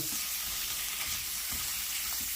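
Sliced fennel and garlic fry and get stirred in a pan, giving a continuous soft sizzle with faint scraping of the stirring, steady and fairly quiet, without talk.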